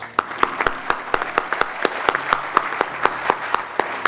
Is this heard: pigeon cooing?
no